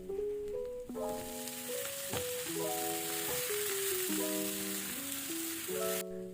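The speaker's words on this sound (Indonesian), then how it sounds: "Nah, lanjut buncis aku masukin, diaduk-aduk." Green beans and garlic stir-frying in a pan give a steady, bright sizzle that runs the whole time beneath a louder melodic music track.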